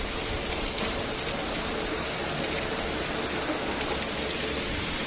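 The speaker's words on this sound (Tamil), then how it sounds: "நல்லா காற்று மழை பயங்கரமாக காற்று வீசுது பார்த்தீங்களா?" Steady heavy rain pours down in strong wind with a constant hiss and occasional louder drops, no voices.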